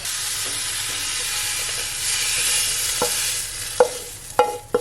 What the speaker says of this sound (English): putting them in the frying pan opposed to putting them in the microwave